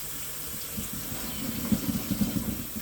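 Hot tap water runs steadily from a kitchen faucet into a pot of potatoes for cooking, a continuous close splashing rush with slight gurgling pulses as the pot fills.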